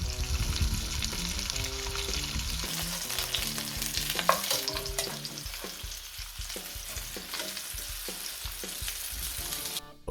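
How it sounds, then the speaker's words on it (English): Kangaroo meat searing in shimmering hot oil, a loud, dense and constant sizzle heard up close, with some tonal sound underneath at the start and no voices. "you want to cook the meat, pretty much searing it for 2 minutes maybe each side"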